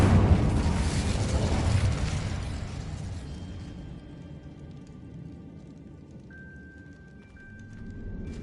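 An Incendio fire spell cast in Hogwarts Legacy erupts in a loud, roaring burst of flame that swells for a couple of seconds, then fades into a quieter crackle with faint magical chimes before a second swell rises near the end.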